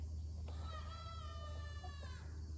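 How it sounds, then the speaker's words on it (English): A rooster crows once far off in the woods, a faint drawn-out call over a steady low hum. "the rooster is crowing and he is way in the woods"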